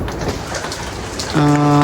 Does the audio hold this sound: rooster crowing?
no